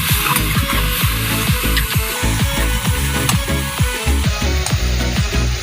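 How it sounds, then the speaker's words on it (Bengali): Bengali-style chewa (gule) fish curry spice paste sizzling and frying in a pan as it is stirred and sautéed, with steady rhythmic scraping strokes repeating about twice a second over a continuous loud sizzle. "মা আবারও নেড়ে চেড়ে কষিয়ে নিচ্ছে"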